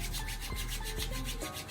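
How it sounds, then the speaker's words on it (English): Palms rubbing together with 360 Style pomade, a close, steady dry swishing and sanding texture repeated over a couple of seconds, with no talking. "So you rub your hands, you know, a few times."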